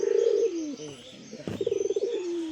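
A domestic pigeon coos in soft repeated throaty phrases, close and fairly loud, with a rapid pulsing run of coos in the middle and a few faint chirps around it.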